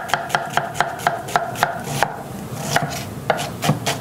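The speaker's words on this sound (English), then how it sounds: "I'm going to start cutting up my onion for the demonstration" A knife chopping an onion on a cutting board for a risotto, a quick, even run of crisp taps, a brief pause, then more chops, close and clear without talking.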